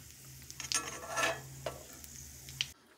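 Raisins fry gently over low heat in a pan, giving a soft, steady sizzle with a few stirring scrapes and light clinks, close and fairly quiet, with no talk.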